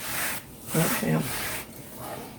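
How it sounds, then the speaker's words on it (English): Cloth or fingers rubbing slimy okra pods clean in a home kitchen, a soft continuous wiping rasp with a couple of firmer strokes, close and steady. "wiping the okra slime off because if you eat okra, you know it's got slime"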